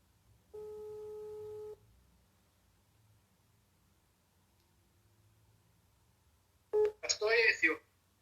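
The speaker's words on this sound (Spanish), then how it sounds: "Voy a probar a llamarlo por teléfono a ver" Telephone dialing tones ring out briefly near the start, then a busy signal follows after a long quiet gap, heard over a phone line in a quiet room.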